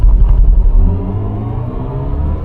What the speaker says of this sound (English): So you got this weird noise when you accelerate and decelerate, which has been created by Hans Zimmer.